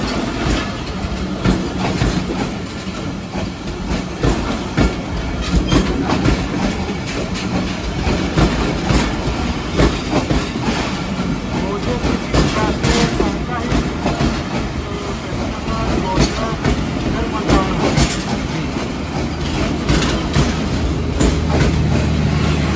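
The Shalimar Express, a passenger train with AC parlour class near Lahore Junction, rolls along the rails with a continuous loud rumble and rhythmic clickety-clack of the wheels, heard from inside the carriage.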